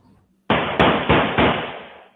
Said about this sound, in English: The sound of gunfire ringing out in a Fort Lauderdale neighborhood Wednesday morning.